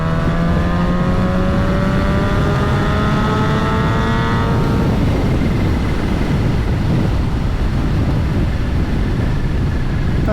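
A supercharged Kawasaki ZH2 motorcycle accelerates hard while touring, its engine note climbing steeply through the gears for about five seconds, then fading into a steady roar of wind and road noise.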